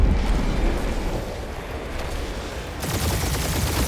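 Dense, continuous bursts of gunfire fill a spaceship battle in Marvel's Guardians of the Galaxy, a loud rolling barrage that grows even harsher and brighter toward the end.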